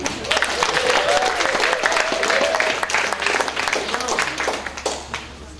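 Audience applause for a band at the Rock Out For Ryland 2015 benefit show, dense clapping and crowd noise that is loud at first and slowly thins out.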